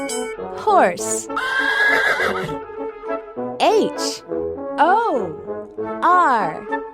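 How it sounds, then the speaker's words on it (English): A horse neighs and whinnies several times in loud, close, shrill descending calls, with a possible clip-clop of hooves and music in the background. "Horse."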